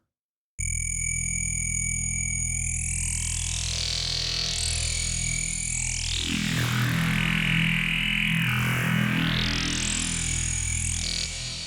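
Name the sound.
wavetable synth lead with pitch modulation and reverb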